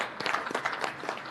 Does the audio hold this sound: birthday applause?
yes